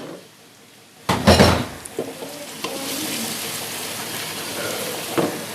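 Spices and chopped mutton go into a pot for Shahi mutton haleem, browned onions already inside, sparking a loud sizzle and frying hiss with a few stirring scrapes and clanks of a spoon against the pot.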